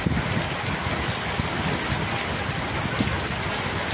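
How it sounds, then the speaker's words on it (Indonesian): Heavy rain pours steadily outdoors at a high-speed railway construction site with a launcher girder, a dense, continuous hiss of drops hitting surfaces close by with no voices. "Namun sayang tampak hujan cukup deras turun di area ini."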